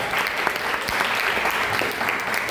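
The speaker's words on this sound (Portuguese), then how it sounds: "Uma salva de palmas para Daniel" An audience at a Friday church gathering gives a round of applause for a boy named Daniel: dense, continuous clapping from many hands, moderately distant and even throughout.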